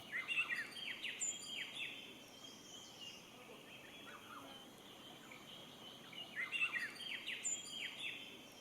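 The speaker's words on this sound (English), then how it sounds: "stopping for a flock of white-throated laughing thrushes." Flock of white-throated laughing thrushes calling along the Limithang Road in Bhutan: bursts of loud, chattering, laughing calls at the start and again near the end, with quieter scattered bird calls in between.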